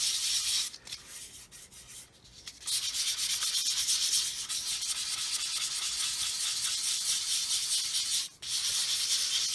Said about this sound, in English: run over this in a circular motion, just to take out any sanding marks